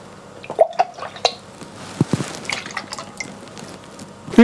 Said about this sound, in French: Je mets également 15 centilitres de lait d'amande.